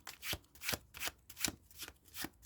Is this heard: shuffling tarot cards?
yes